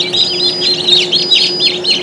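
Newly hatched chicks peep in an OVO incubator, giving a close, loud run of high repeated chirps over a low, steady hum.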